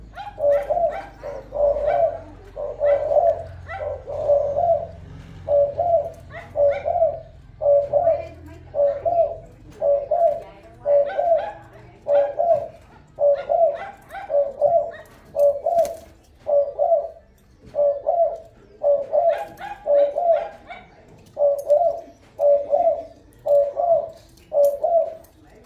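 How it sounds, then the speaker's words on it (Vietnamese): Decoy birds coo close by in a steady, regular rhythm, one call roughly every second, repeating clearly for the whole stretch with a faint low rumble beneath. "Chim còn lứa cả này nè, mới về tới luôn anh em"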